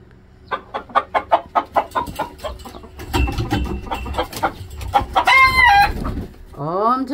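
Hens cluck in a quick rhythmic series, then a rooster crows loudly nearby, followed by more excited clucking and another crow starting at the end.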